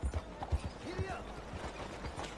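Horse hooves trot in Red Dead Redemption 2, a steady clip-clop close by with low thuds, while a voice speaks over the game's background.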